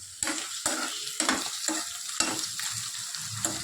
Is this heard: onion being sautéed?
yes